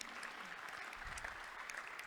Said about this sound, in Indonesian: Kita tepuk tangan dulu kepada saudari Nova.